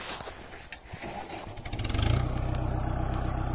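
A Kubota MU 4501 tractor runs with a back harrow working the field. The engine starts low and uneven, then rises into a loud, steady, pulsing rumble that holds to the end.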